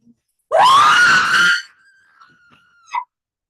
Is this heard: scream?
yes